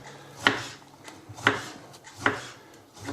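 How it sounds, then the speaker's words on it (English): A kitchen knife cuts a tomato into half slices on a board, with three crisp, evenly spaced chops about a second apart, close up and with nothing else around them. "We're going to go in with some tomato. Now we're going to just cut half slices of this"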